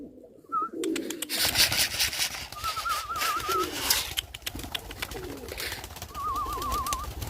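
Türkan and red-necked pigeons coo softly in a pigeon house in Baku, giving a few low rolling coos over steady rustling and shuffling of birds nearby.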